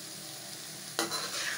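Tinda (apple gourd) frying in a pan makes a soft, steady sizzle, and a louder scraping stir joins in near the end.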